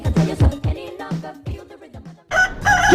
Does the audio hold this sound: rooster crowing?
yes